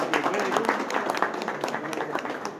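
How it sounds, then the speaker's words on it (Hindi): Hospital staff applaud people leaving after their vaccination: a steady wash of many hands clapping, fairly close and continuous, with voices mixed in underneath. "अस्पताल के तमाम कर्मचारी वैक्सीन लेने वालों का सिर्फ तालियों से स्वागत ही नहीं कर रहे"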